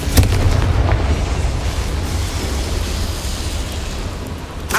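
A Confringo fire spell in Hogwarts Legacy detonates in a loud, sharp burst, then a long rumbling roar that slowly fades, with a second crack right at the end.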